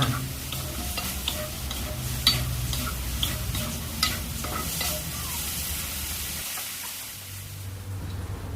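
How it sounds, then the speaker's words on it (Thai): Potatoes and hot dogs stir-fry in a pan with a little olive oil and water, giving a steady sizzle close by and occasional scraping taps of the spatula, without talk. "เราจะผัดส่วนผสมให้เข้ากันนะคะ"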